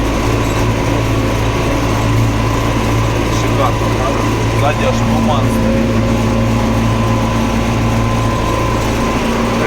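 A tractor engine drones steadily and loudly while pulling an Amazone crop sprayer in a field, a constant close rumble running under a voice throughout.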